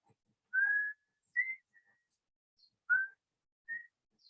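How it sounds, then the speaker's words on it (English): A person whistles a tune in short, clear phrases: several separate notes and brief runs with gaps between them, close and alone with no talking. "Let me whistle a bit."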